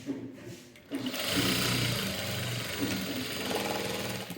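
An electric sewing machine stitches fabric, starting after a brief quiet moment and then running as a fast, steady mechanical whirr and hum, close up.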